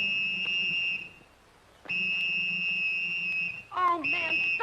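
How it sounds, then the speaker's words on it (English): A shrill whistle is blown in long sustained blasts in a western film, three steady tones separated by a brief pause, loud and close, with a voice breaking in near the end. "stop blowing that whistle."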